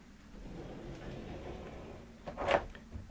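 A caravan ensuite door swings shut with a single soft thud and latch click near the end, following quiet room noise.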